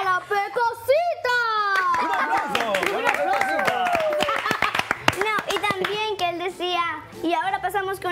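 An audience claps on a live comedy web show, the clapping running steadily for about eight seconds and blended with lively high-pitched voices and melodic sound throughout.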